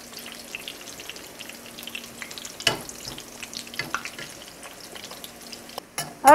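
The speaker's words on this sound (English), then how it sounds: "When they fry, they can be gold." Battered cardoon pieces fry in a pan with a soft, continuous crackle and occasional louder pops or utensil taps, fairly quiet and close, ending in a sudden clatter.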